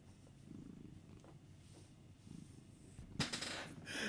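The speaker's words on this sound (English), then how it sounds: "I have him purring." A domestic cat purrs softly and close by in a low, steady, rhythmic rumble, then a brief louder clatter and rustle comes near the end.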